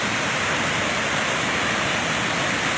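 A waterfall at Cachoeira da Fumaça in Alegre, Espírito Santo, Brazil, roars as a loud, dense, unbroken rush of falling water that fills everything evenly without pause.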